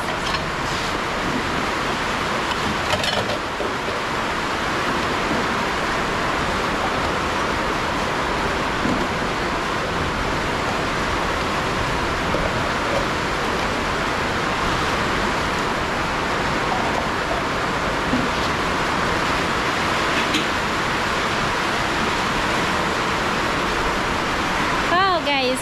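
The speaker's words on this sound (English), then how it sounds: "the rain is just continuing falling" Steady, dense hiss of rain falling continuously, a broad wash of sound with no break for the whole stretch.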